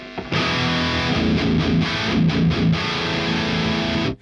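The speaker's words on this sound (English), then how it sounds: "Let's just hear the JVM on its own." A Marshall JVM guitar amp playing a distorted high-gain tone, heard alone: loud, saturated chugging riffs with rhythmic palm-muted stabs and sustained chords for about four seconds before stopping.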